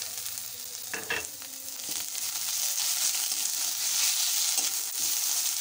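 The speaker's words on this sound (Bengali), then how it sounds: "আবার আদা বাটাটাকে একটু ভেজে দিচ্ছি।" Ginger paste fries with onion paste in a pan for a Bengali raw banana curry: a dense, even sizzle up close with a couple of soft scrapes of the spatula early on and no speech.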